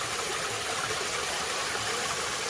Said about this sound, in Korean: 계곡에 요즘 비가 많이 와서 지금 물이 많이 오고 물소리가 시원하네요